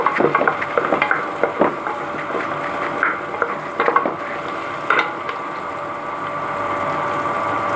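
Large onions sautéing in a pan for soya biryani, with whole spices and fennel seeds added, stirred in repeated scraping strokes over a steady sizzle. The stirring is busy at first, then fades into a continuous low frying hiss.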